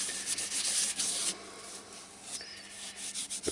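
Wood finish is rubbed by hand into a turned wooden pot held on a stopped lathe, making a close, steady rasping brush of hand on wood in uneven strokes.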